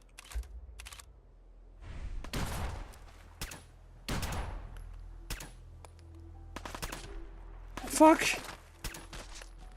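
Gunfire from the player's weapon in Fallout 4, several sharp separate shots spread across ten seconds, with a voice cursing once and quieter clicks and steps between them.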